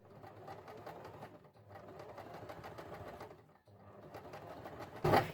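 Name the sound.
sewing machine stitching knit fabric edge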